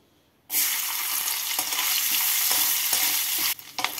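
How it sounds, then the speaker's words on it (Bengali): Coconut pieces dropped into hot white oil in a kadai start a loud, dense sizzle that holds steady for about three seconds, then breaks off with spatula stirring sounds, close up and without speech. "এবার এই তেলের মধ্যে কিছু টুকরো করা নারকেল ভেজে তুলে নেব।"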